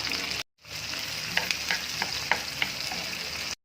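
Chopped onion and tomato sauté in a hot pan with aromatic herbs, giving a steady close sizzle broken by scraping stir strokes, with a brief silent gap at the start.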